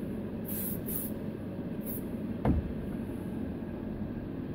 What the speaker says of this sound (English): I'll generally just give it just a gentle spray on top.